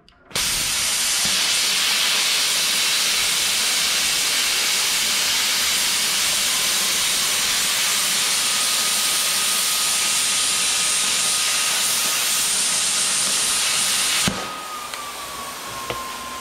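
Cutting a stainless steel door threshold gives a loud, steady hiss with a thin ringing whine that runs unbroken for about fourteen seconds, then drops away abruptly to a quieter background.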